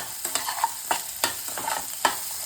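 Onions stirred and frying in a pan with cumin for paneer bhurji, a quiet sizzle broken by several sharp spatula scrapes at irregular intervals, close by with no talking.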